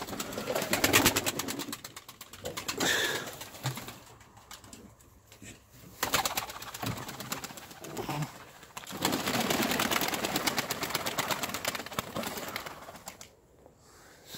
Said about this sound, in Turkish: Bunlar benim uçurduğum kuşlar.